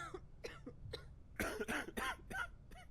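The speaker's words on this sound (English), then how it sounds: "Yep, we got a cough." A patient coughs in the game Quarantine Zone: The Last Check, giving a run of sharp, close, harsh coughs. A few lighter ones come first, then a louder burst of several in quick succession, then trailing hacks.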